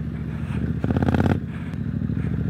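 A street scrambler motorcycle rides a gravel dirt track, its engine chugging in a steady pulsing idle that swells into a brief rev burst midway before settling back down, close and without speech.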